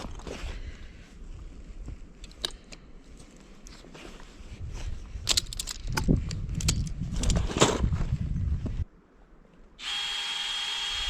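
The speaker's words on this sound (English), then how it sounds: "This drill has been giving me problems and now it completely stopped working." A power drill whirs and labours in uneven bursts while tapping maple trees, rising in intensity before cutting out abruptly into near silence, followed by a steady hiss.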